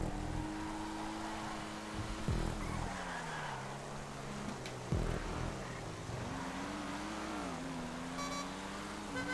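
In a Grand Theft Auto race, a game car engine roars continuously, its pitch dipping and rising as it revs and shifts, with a couple of sharp thumps along the way, steady and loud.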